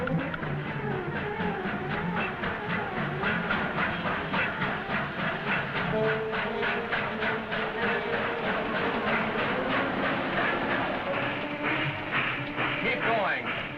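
A train rolls along with a rhythmic clickety-clack and hissing rumble, steady and fairly close, while voices talk over it.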